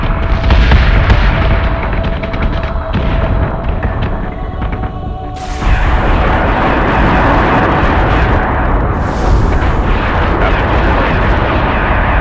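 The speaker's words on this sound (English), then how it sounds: "Set secondary battery. Full attack mode. Fire at will." Warship gun batteries fire in the space combat game Battlestar Galactica: Deadlock, a loud continuous barrage of booming blasts with sharp bursts layered over a dense rumble, with no voices.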